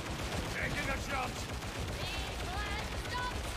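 Gunshots in Warhammer 40,000: Darktide, continuous rattling fire from a militia squad amid battle noise, with voices shouting over it.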